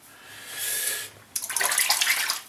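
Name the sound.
water running while washing face after shaving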